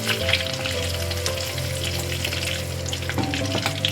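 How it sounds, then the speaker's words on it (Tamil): Cumin seeds fry and splutter steadily in hot oil for a mutton liver masala, a dense, constant sizzle with faint crackles, close and with no voices. "சீரகம்லாம் பொரிஞ்சு வந்துடுச்சு"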